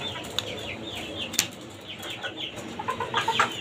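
Tiger-breed chickens kept in cages on a rooftop farm, with scattered clucks and short calls, some wing flapping, and a livelier burst of cackling toward the end, moderately close with no talking.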